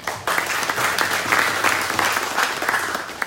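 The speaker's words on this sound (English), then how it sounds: "Everyone give a round of applause for Nick" A small room of people at a real estate round table meeting applauding Nick, brisk close clapping from a modest group lasting a few seconds.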